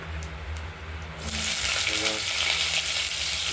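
Cumin and a dried chilli sizzle in hot oil as potatoes go in, the frying swelling from a soft hiss to a loud, steady crackle up close.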